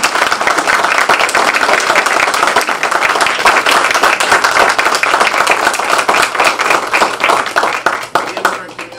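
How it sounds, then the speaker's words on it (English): Audience applause at an annual meeting, a sustained, dense wash of clapping that holds steady for the whole stretch before tapering slightly at the end. "We need to clap."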